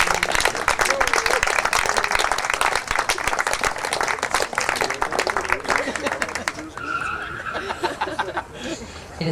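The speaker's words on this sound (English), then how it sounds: "you can give them all a big round of applause" Wedding reception crowd clapping densely and loudly for the couple, a steady roar of many hands that thins out after several seconds as voices and music take over.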